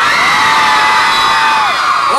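Loud crowd of women at a 2005 Bimbo-tour pop concert in Mérida shouting and whooping together, a sustained dense roar of high voices filling the whole clip.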